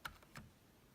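Three separate key presses on a Roccat Horde Membrane 2.0 gaming keyboard, each a soft, quiet click standing apart from the others, fairly close, with no talking.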